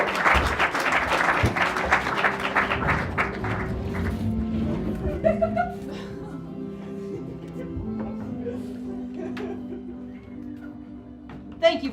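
A live show audience gives a warm round of applause, steady broadband clapping for roughly five seconds that fades under voices and tonal sounds.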